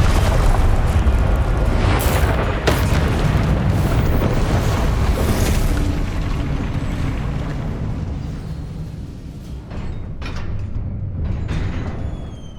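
A Confringo blasting spell explosion in the video game Hogwarts Legacy, a loud booming burst that rumbles and fades over several seconds, followed by a few softer impacts.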